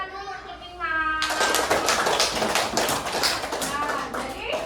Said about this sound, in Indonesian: Beri tepuk tangan dulu untuk Dimas.